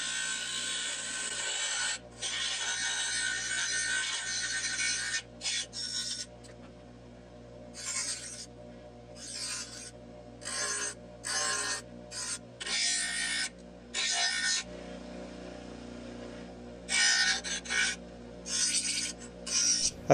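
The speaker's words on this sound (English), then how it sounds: "The next step is to grind it into roughly a knife shape." High carbon steel strips being ground into a knife shape, with repeated loud bursts of harsh rasping grinding that start and stop again and again, close and alone.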